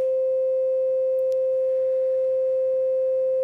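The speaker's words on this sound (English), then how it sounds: "if we just patch the sine wave output" A steady, pure electronic sine wave from a synthesizer oscillator module holds at one pitch without wavering for the whole stretch, clean and moderately loud.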